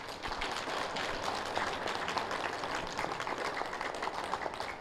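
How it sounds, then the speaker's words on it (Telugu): An audience claps at a Yoga Day event in Khammam, a steady wash of many hands applauding together for several seconds, fairly distant and even in level. "ఒకసారి గట్టిగా క్లాప్స్ కొడదాం."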